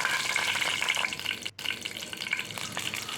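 Urad dal and mustard seeds roasting in a pan over medium heat, giving a steady close sizzle with faint crackling and stirring scrapes, continuous throughout with no talking.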